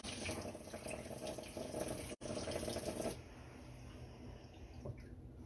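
Water from a tap runs and splashes while an electric milk frother is rinsed out, a steady close rushing sound that briefly cuts out and then continues more softly.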